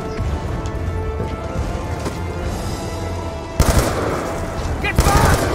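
Black Ops 2 Zombies game gunfire erupts in loud, close bursts over a constant backdrop of game noise, with sharper volleys toward the end.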